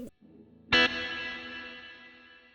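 A single strummed electric guitar chord rings out and decays slowly into a long, shimmering plate reverb tail.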